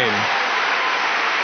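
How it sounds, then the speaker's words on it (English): Audience applause for Maureen Dowd at an arts policy lecture, a dense, steady wash of clapping from a large crowd that fills the whole stretch; a brief voice trails off at the very start. "Let's have another round of applause for Maureen."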